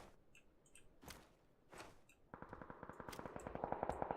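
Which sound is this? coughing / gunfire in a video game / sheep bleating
gunfire in a video game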